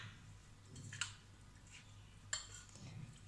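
A spoon mixing tomato, cucumber and onion raita in a bowl, two faint, crisp clinks against the dish over a quiet background hum.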